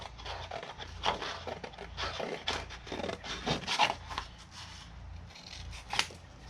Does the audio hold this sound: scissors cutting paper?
yes